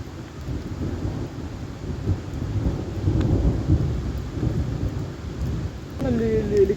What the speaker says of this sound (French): une tempête orageuse va venir frapper le camp.